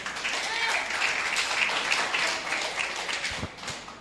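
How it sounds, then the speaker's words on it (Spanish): Church audience applauding at an evangelical service, a steady wash of clapping that holds for about four seconds at moderate level, with a faint voice underneath. "Dale un fuerte aplauso a Jesucristo."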